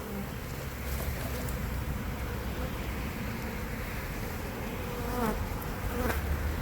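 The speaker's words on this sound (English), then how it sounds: "saw the bees flying, and I said, hey, those bees are going to swarm" A loud, continuous drone of swarming bees fills the air, close and dense, with a few faint thumps and chirps mixed in.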